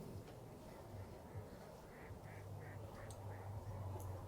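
Ducks quack in short repeated bursts close by, an uneven series of nasal calls over a low, steady background hum.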